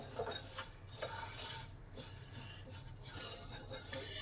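Two kinds of mustard seed mixed with whole spices get scraped and stirred in a warm pan with the gas off, for a traditional mango pickle, giving faint gritty rubbing and soft clinks, close and quiet with no sizzle.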